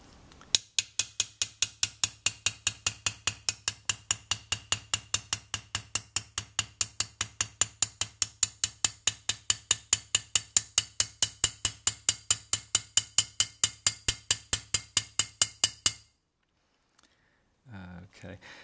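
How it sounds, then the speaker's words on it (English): Rapid, steady mallet blows hammer a pierced metal spatula flat, roughly five strikes a second for about fifteen seconds, loud and close with a bright metallic ring, then a pause and a few faint knocks at the end. "Have to go get a mallet because it's starting to change shape, and I want it to stay"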